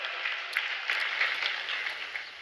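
Crowd applause at a fair, a dense steady clatter of many hands clapping throughout with no voices on top.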